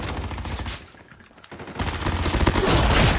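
Loud automatic gunfire in Call of Duty Mobile, a dense rattling burst that dips to a short lull and then returns even harder and more sustained to the end.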